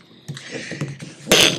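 Someone sneezes during a planning board meeting. A short, sharp burst comes near the end after some faint murmuring, loud and close to the microphone.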